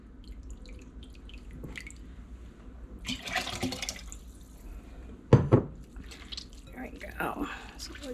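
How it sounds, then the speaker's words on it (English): Whey is poured off homemade mozzarella curd in a kitchen. Brief splashing and dribbling bursts come in short spells, with a sharp clink partway through, amid quiet room noise. "I'm going to pour off some of this whey here."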